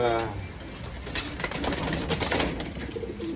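Crossbred wild pigeons cooing in a continuous, low, throaty murmur, with occasional brief rustles like wings, heard steadily nearby.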